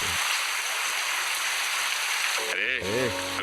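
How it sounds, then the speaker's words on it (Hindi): Rain in an animated Hindi cartoon: a steady, full hiss of falling rain fills most of the stretch, then breaks off near the end into a short burst of warbling, cartoonish tones. "बारिश की वजह से पानी से बचने के लिए गीत और पिंकी दोनों ने सिर पे पानी डाल रखा है"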